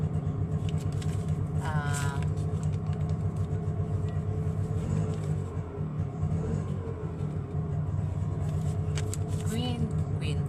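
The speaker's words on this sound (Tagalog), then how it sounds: "Teka, may tricycle." A motorized tricycle passing on the road, heard as a steady, close engine rumble amid traffic noise, with a person talking over it.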